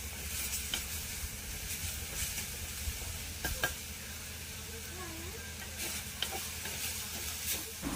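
Aloe vera flower stir-fry (kathazhai poo poriyal) sizzles steadily in a pan, a constant hiss with faint scattered clicks and scrapes throughout, moderately quiet and unbroken.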